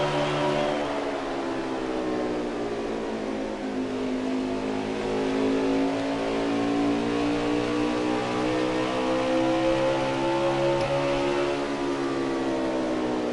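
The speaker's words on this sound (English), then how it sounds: "The onboard camera here with Keystone, number 2 machine." Stock car racing engines at Iowa Speedway in a Pro Cup Series race, a loud continuous roar with rising and falling revs as cars power around the track, heard close and steady with no talk.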